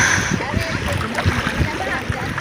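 Sea waves splash and rush close by along a provincial shoreline where people are gathering shells, a loud, continuous churning of water with voices mixed in.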